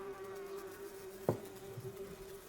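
Carrion flies buzzing in a film scene: a steady, faint insect drone with a thin sustained hum and a brief sharp tap partway through, no talking.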